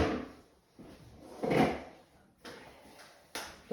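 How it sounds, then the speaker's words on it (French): Thermomix lid closing and an empty cooking basket set on top: a few soft plastic clunks and scrapes spaced about a second apart, close by and fairly quiet, with no talking. "je vais venir fermer avec le couvercle. Je vais mettre le panier cuisson au-dessus"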